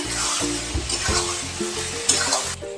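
Green chili paste and spices being stir-fried for a fish curry, with a steady close sizzle under repeated rhythmic scraping of a spatula or spoon against the pan throughout.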